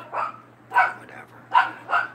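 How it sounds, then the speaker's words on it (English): Several dogs bark in the background of a back bedroom, four separate bursts spaced across about two seconds, moderately loud with no speech over them. "you have to forgive the dogs barking in the back"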